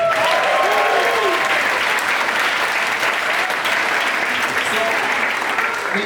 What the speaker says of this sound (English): So now a big round of applause for the blue